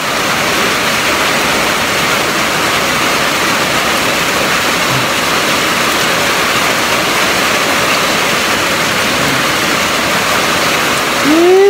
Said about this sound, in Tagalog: Bihirang ulan na ito.